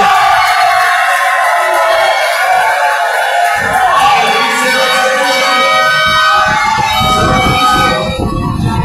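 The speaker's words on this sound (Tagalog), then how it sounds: "Grabe yung crowd dito ng Sampalukan." A loud, dense crowd roars and cheers continuously at a barangay junior summer league basketball game in Batingan, the noise swelling and staying high throughout.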